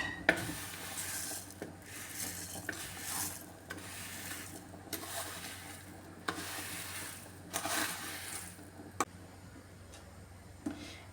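Vermicelli payasam with sago being stirred in a pan, soft intermittent scraping and tapping strokes of the spoon against the pan, fairly faint, with occasional sharp clicks.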